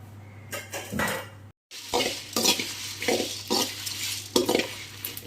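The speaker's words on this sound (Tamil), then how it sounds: "இது ட்ரை ரோஸ்ட் பண்ணிக்கலாம்" A spatula stirs and scrapes ingredients dry-roasting with a small piece of asafoetida in a kadai for gongura pickle. Metallic scrapes and rattles come at a steady pace with a faint sizzle beneath, close by and without speech.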